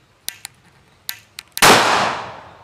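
Several small sharp clicks and metallic ticks, then a loud close boom from a homemade methylated-spirit firecracker cannon firing late, its broadband roar trailing off over the next second, no voices heard.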